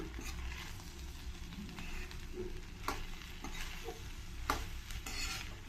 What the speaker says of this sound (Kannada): ಈಗ ಎಲ್ಲನೂ ನೀಟಾಗಿ ಮಿಕ್ಸ್ ಮಾಡ್ಕೊಳ್ಳೋಣ